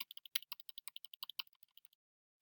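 Rapid, crisp clicks of a computer keyboard being typed on, about twenty distinct keystrokes in quick succession that slow and thin out near the end, close and quiet with no talking.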